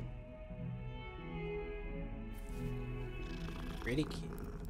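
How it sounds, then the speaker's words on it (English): A cat purrs softly in the Hogwarts Legacy video game, a low rumble under a voice and game music. "Kitty!"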